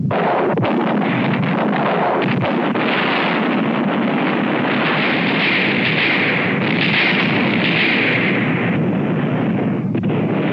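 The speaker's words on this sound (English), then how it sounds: "Commence firing. Fire at will." Artillery guns fire in a war movie battle scene, a loud continuous roar of blasts and rumbling booms merging with wind-like noise across the whole stretch, no speech.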